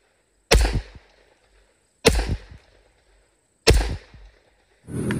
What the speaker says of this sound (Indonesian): yang ini pistol Azuri.